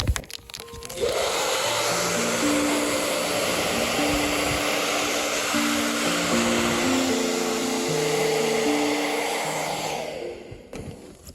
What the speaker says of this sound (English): we're going to use a hairdryer and it just tucks it in really nicely.